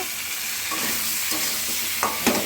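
Potatoes sauté in a hot pan with turmeric, salt, tomato and green chilli, giving a steady close sizzle broken by a few scraping stirs, with no one speaking.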